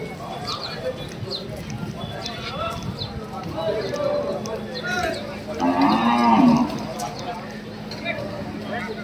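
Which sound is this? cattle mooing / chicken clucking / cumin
cattle mooing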